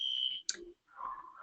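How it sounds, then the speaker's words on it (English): A building fire alarm sounds as a steady high electronic tone, broken briefly by a click before a lower tone continues. "I've just been informed that the fire alarm is actually in our building and I need to leave the building."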